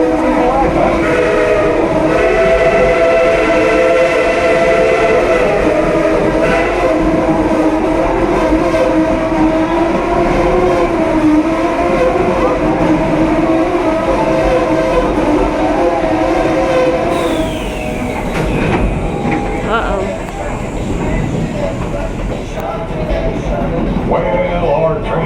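Tweetsie Railroad train rolls steadily along the tracks for the whole stretch, a continuous loud rumble with tonal whistle-like lines, and a brief higher burst near the end; people talk over it throughout.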